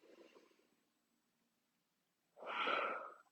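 Slow, deliberate breathing during a morning stretch routine for back pain: soft, faint breath at first, then a loud, forceful exhale near the end, with no talking.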